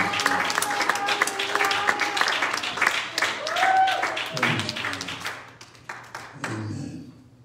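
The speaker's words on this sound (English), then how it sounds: "Will you clap your hands in the Lord's name?" A church congregation claps hands during a sermon, steady crowd clapping running throughout, fairly loud and dense, with a brief lull near the end before it picks up again.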